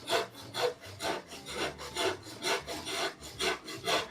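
A handsaw cuts through pallet wood in a steady, even back-and-forth rhythm of about nine rasping strokes, close and clear with no talking.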